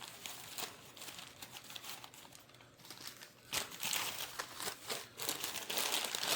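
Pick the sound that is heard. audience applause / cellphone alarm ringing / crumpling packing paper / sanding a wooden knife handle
crumpling packing paper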